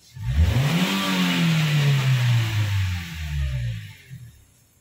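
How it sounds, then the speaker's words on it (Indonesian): Engine of a Toyota Avanza Veloz fitted with a Blackcore Ultimate device revving hard, climbing quickly to a sustained high-rpm roar, then dropping back and fading; close, loud and alone. "Naiknya RPM sangat cepat,"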